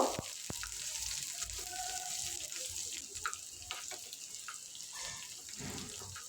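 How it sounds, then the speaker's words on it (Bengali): Sliced onions with whole cumin seeds and dried red chillies frying in mustard oil, a steady hissing sizzle throughout with occasional stirring clinks, close and moderately quiet, no talking. "গোটা জিরে ফোড়ন শুকনো লঙ্কা আর কোচানো পেঁয়াজ লাল লাল করে ভেজে নেব"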